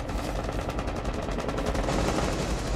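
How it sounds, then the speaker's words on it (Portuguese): Rapid automatic gunfire from Rainbow Six Siege rattles in dense bursts, loud and continuous for a few seconds with no voices. "Quem trocou tiro aí, gente?"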